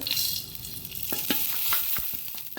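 Cumin and coriander seeds roast in a pan for Mangalorean raw banana sukka, with a crackling sizzle and several sharp stirring scrapes and taps, close, with no voices.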